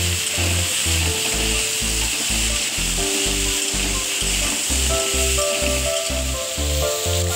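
Duck egg and cauliflower pieces frying in oil in a pan, with a steady loud sizzle over a pulsing low rhythmic thump, continuous throughout with no voices.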